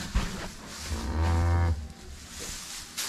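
Cattle in a barn where a newborn calf has arrived: one low, drawn-out moo stands out clearly, with faint shuffling and barn noise around it and no speech.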